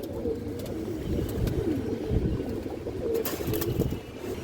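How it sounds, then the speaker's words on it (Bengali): Short-beaked pigeons, coloured and high-flyer breeds, cooing close by in repeated low throaty rolls, several overlapping coos rising and falling across the span with faint rustling and no talk. "এই দেখেন ছোট ঠোঁটের কবুতর দর্শক"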